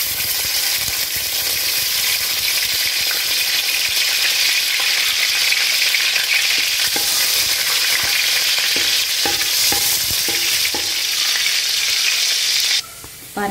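Chopped garlic fries in hot oil for egg veg noodles, a loud continuous sizzle lasting throughout with occasional stirring scrapes, then a brief drop near the end.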